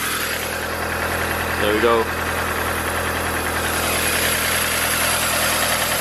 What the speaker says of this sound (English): That's how you adjust the idle to make it idle slower.